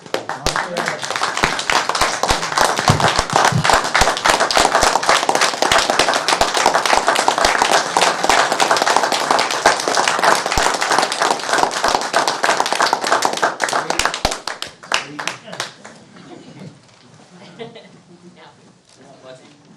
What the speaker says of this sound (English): maybe you guys could join me in a round of applause and appreciation